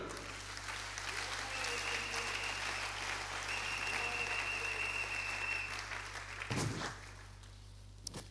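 A church congregation applauding and cheering the Lord during a French-language sermon, a sustained wash of clapping and crowd noise that ends in a brief louder burst before fading out.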